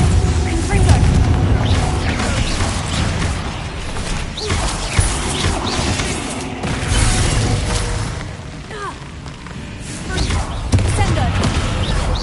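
Spells like Bombardo and Confringo go off in a wizard video game: repeated booming blasts and crackling bursts amid a loud, busy fight, while voices shout over the explosions.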